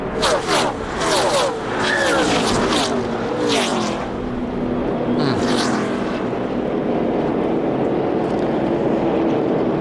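NASCAR race cars at speed in the 2004 Pop Secret 500, several loud engine passes roaring by close with rising and falling pitch, then a steady engine drone, with a commentator talking over the noise.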